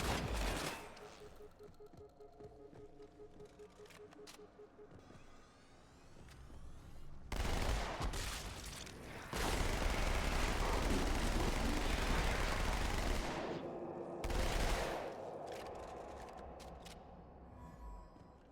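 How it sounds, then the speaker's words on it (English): SMG bursts in Halo: MCC come in loud rapid volleys, one short burst early and then longer sustained firing in the middle and later, with quieter gaps of game ambience between. "this SMG is not doing as much damage as I would hope"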